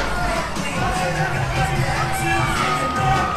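Lucha wrestling crowd cheering and shouting for a wrestler in an arena. A dense, loud roar of many voices holds steady throughout, with excited yells and kids' shouts rising through the din.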